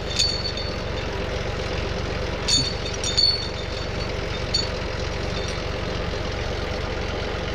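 A John Deere 3046r compact tractor idles steadily while its forestry winch spools in, the low engine drone punctuated by a few light metallic clinks from the winch and chain.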